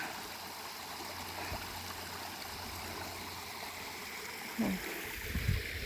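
Steady flow of water over rocks in a shallow forest stream in Switzerland that flows year-round, a continuous soft rushing with a couple of brief louder splashes near the end.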